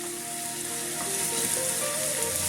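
Zucchini filling with capsicum fries in a pan with a steady, moderately loud sizzle, and the spoon stirs it now and then, producing brief scraping sounds.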